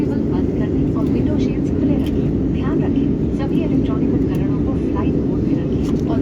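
An IndiGo passenger airplane comes in to land, its steady, loud engine roar filling the whole stretch with broadband rumble, while people talk over it.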